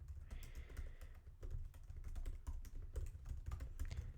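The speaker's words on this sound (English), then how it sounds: "then we type in our correct URL here" Keystrokes on a computer keyboard as a URL is typed, a steady run of quick, close clicks over about four seconds with brief pauses, no talking.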